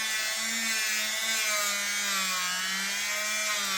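A rotary tool spins a polishing wheel against the steel of a Colt Python revolver, giving a steady, high, whining hum with a slightly wavering pitch, close and continuous throughout with no talking.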